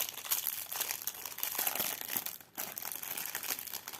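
Crinkly plastic packaging of a cross-stitch kit being unwrapped, soft close crackles and rustles in quick irregular bursts with a brief pause midway.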